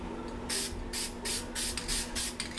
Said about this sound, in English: spray out some black